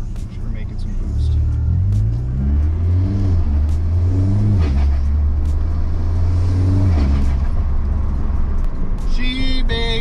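A tuned VW Golf MK6 GTD with a 2.0 CJAA diesel and big injectors accelerates hard under boost, loud engine tone climbing through gears in rising sweeps, heard from inside with people talking over it.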